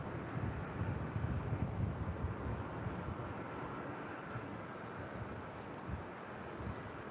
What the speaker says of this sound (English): This is Delta Connection Flight 3701 coming in from Phoenix. It's a 5-year-old Embraer